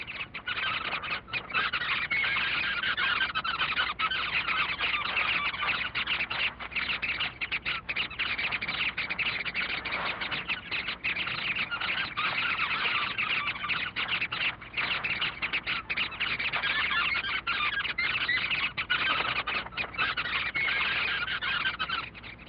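A large colony of weaver birds chatters continuously at a huge communal woven nest in the Kalahari, home to up to 300 birds. Dense, steady twittering and chirping fills the whole stretch at an even level.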